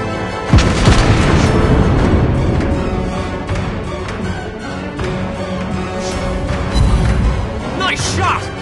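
Naval shells exploding on a target in World of Warships Blitz, aboard the French cruiser Henri IV, boom loudly in a dense, rumbling barrage with repeated heavy blasts over continuous battle noise, a voice speaking over it.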